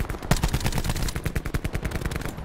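Rapid automatic gunfire in a first-person shooter video game during a nuke challenge, a dense burst of sharp repeated shots rattling steadily for over two seconds, loud and close.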